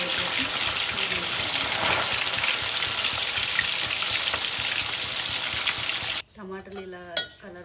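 Paneer cubes deep frying in oil in a pan on a stove at medium heat give a loud, steady, dense sizzle that runs unbroken for several seconds, then stops abruptly, leaving a few clinks and faint speech.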